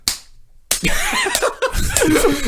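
A hand smacks against a body in sharp slaps standing in for knocks, a loud crack first, then several quicker slaps in an echoing room.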